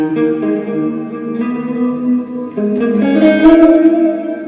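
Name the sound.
electric guitar with reverb effect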